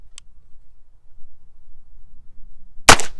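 A Heritage revolver fires a rimfire cartridge with a single sharp, loud shot near the end, preceded by a faint click and quiet background.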